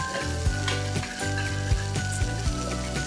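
Chopped onions sizzle steadily in a hot pan after salt is added, cooking for a Malabar kappa biryani. Soft stirring scrapes recur roughly every half second over the continuous close frying hiss.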